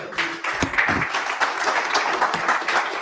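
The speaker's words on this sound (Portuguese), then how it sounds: "Dê um aplauso a Jesus, por favor." Applause from a church congregation, steady dense clapping filling a few seconds with a voice briefly heard over it.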